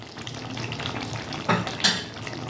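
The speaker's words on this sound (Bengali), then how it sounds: "আমি একটু ফুটিয়ে নেবো মানে এই যে ঝোলটুকু আছে এটাকে একদম শুকিয়ে দেবো" Mixed vegetable curry gravy with poppy seed and mustard paste bubbles and sizzles as it reduces in a pan, a steady close crackle with a couple of louder spits and scrapes near the end.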